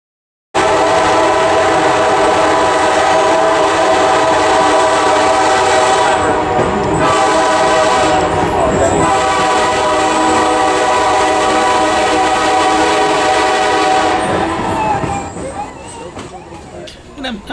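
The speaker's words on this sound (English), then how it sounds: "I'm actually going to shut up and just let you enjoy the whistles and the announcers talking" An Alaska Railroad passenger train, on the Anchorage to Seward run, rolls along with a steady rumble and clatter while its horn sounds in long, loud whistle blasts, fading near the end.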